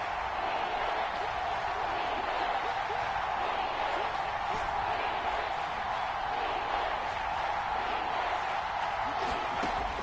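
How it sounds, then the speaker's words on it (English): A steady stadium crowd roar fills a PS4 football video game, a continuous even murmur of many voices at constant level throughout, with no distinct cheers standing out. "Crowd getting in it a bit already."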